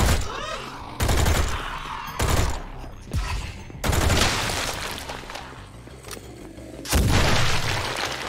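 Cannon blasts go off in the Project Warlock 2 shooter, loud heavy booms repeating every second or so in a burst-laden firefight, with explosive impacts ringing between shots.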